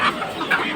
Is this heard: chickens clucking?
yes